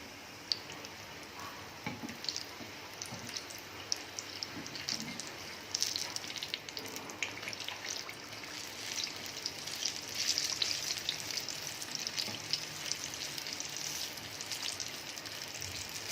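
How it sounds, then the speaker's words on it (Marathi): Mixed vegetable pakoras fry in hot oil with a steady, dense crackling sizzle that holds throughout, with faint occasional ticks, close and alone with no talk. "एका बाजूने छान आपण फ्राय व्हायला देऊया आणि नंतर यांना पलटून घेऊया."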